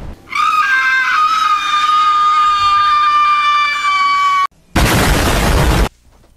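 A loud, harsh burst from a video-game cannon firing, a roaring blast about a second long that comes right after a sustained shrill, whining tone cuts off.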